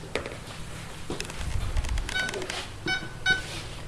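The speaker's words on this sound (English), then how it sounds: "Put my timer on for 10 minutes." A kitchen timer, set while making homemade strawberry freezer jam, gives two short, sharp electronic beeps near the end, after some soft kitchen clatter and handling noise.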